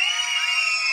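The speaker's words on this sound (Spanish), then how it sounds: "¿El grito de la niña?" A girl lets out one sustained, shrill shout, loud and close, lasting about a second without a break.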